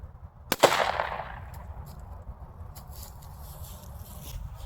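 A .44 Magnum revolver fires ratshot from about 5 to 6 yards: one loud, sharp report near the start, then a fading ring and low outdoor rumble with faint rustling afterward.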